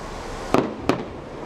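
Fireworks exploding in Bournemouth in July 2011: two sharp, loud bangs go off about a third of a second apart over a constant outdoor background hiss.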